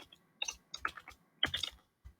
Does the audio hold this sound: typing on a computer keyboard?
yes